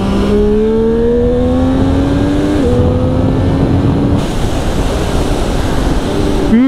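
A 2020 Triumph Street Triple RS motorcycle engine revs loudly and drops in pitch as it downshifts through several quick gear changes, with steady road and wind roar throughout.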